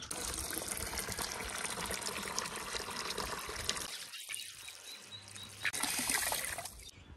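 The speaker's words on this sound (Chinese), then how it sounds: "听到我放水的声音，这些家伙都往过跑，都想来蹭水。" Water runs and trickles steadily from a tap or hose into a bowl for thirsty dogs and ducks on a hot day, a continuous close splashing flow with a brief lull midway before it resumes.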